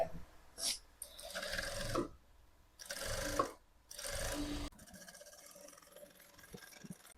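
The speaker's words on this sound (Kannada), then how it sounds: "ಈ ತರ ಕೂರ್ಸ್ಕೊಂಡು ನೀವು ಸ್ಟಿಚಿಂಗ್ ನ ಮಾಡ್ಕೊಳ್ಳಿ." A sewing machine stitches a blouse lining piece in bursts of steady mechanical whirring, three main runs separated by short pauses, followed by quieter handling sounds.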